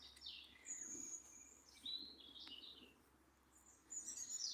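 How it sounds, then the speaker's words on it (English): Several birds chirp and trill in a quiet Sussex woodland, faint and somewhat distant over a soft background hum from a nearby road. "But there's loads of birds, as you can hear."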